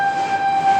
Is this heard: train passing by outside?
yes